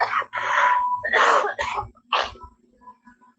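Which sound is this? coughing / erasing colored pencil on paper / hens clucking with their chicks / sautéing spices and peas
coughing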